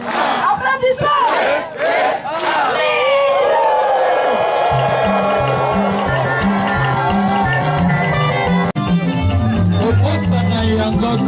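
A crowd at a thanksgiving celebration shouts and cheers loudly, with bursts of voices at first, then a sustained roar of cheering over pulsing rhythmic music.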